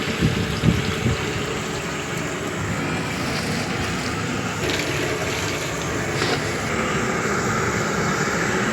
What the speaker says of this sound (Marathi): कसं खळा खळा पाणी उकळतंय